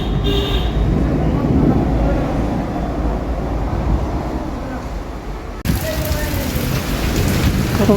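Heavy rain pours steadily throughout a thunderstorm with a deep rumbling undertone, and the downpour grows harsher and brighter after a sudden break near the end.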